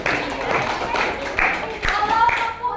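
Children clap their hands in a classroom, a scattered, uneven patter of claps mixed with voices and chatter, moderately close.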